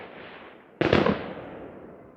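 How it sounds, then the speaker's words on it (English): A single loud Canada Day firework bursts outdoors with a sharp boom, followed by a fading rumble over a low background hiss. "I'm doing this during Canada Day fireworks."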